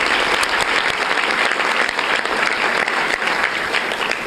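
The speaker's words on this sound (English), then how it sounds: "So please give your applause to those two" Students at a Charlotte County school board meeting receive a dense, steady round of applause from the room, a continuous wash of many hands clapping at even loudness throughout.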